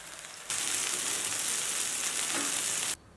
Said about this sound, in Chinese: 用中火煎制。 不过要注意的是煎的过程当中需要多次翻面，否则就会焦咯。